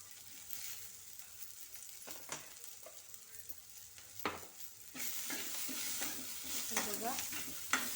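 Green chillies fry and sizzle in a hot pan for methi paneer, a steady close crackle with intermittent stirring scrapes, growing louder and busier partway through.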